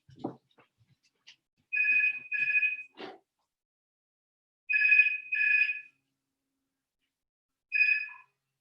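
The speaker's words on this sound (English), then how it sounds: "My phone never rings. I'm just going to switch that off though." A home phone rings in repeated double bursts of an electronic trill, with pauses between sets. The rings are clear and moderately loud, heard indoors with a few small knocks and handling sounds and no speech.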